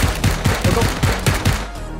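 Rapid gunfire in the battle royale game PUBG, a string of sharp, evenly spaced shots about every quarter second, loud and close, with no talk over it.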